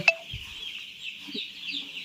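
Poultry chickens in a brooding shed with expanded floor space call continuously in a dense, high-pitched chorus of peeps and chirps, with one louder call near the start and a few soft low knocks beneath.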